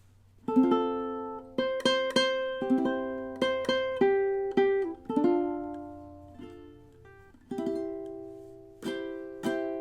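Plucky ukulele chords strummed in a bouncy rhythm, some strokes louder and some softer, with no voice.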